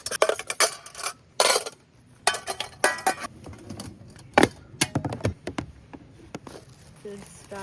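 Cast iron pan, bowl, cutting board and plate being packed for a car camping kitchen: irregular clatters, knocks and scrapes of cookware and dishes set against one another, close and busy, with quiet pauses between bursts.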